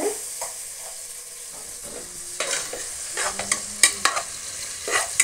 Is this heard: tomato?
yes